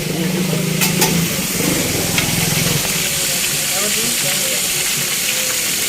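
Fish fries at a beach food stall in Bapatla, a steady hissing sizzle mixed with a low hum and busy outdoor background, with a voice speaking briefly over it.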